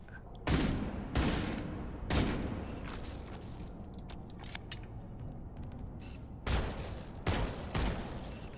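Pistol shots in the video game Halo Campaign Evolved: about six sharp, loud reports in irregular bursts, each with a short ringing tail, with quieter clicks and rattles in the gaps.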